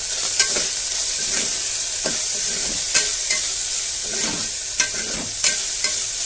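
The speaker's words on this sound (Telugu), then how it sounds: "ఇవి కొంచెం వేగిన తర్వాత ఈ పీసెస్ వేసేయండి." Chicken pieces fry in a pot for soup, a steady loud sizzle with scattered sharp clinks and scrapes of stirring, no voices.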